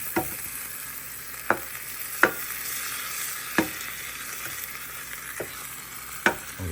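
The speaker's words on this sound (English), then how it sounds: "mixing it around." Costco tortelloni fry and sizzle in a pan while a utensil stirs them, leaving a soft constant hiss broken by about six sharp scraping taps.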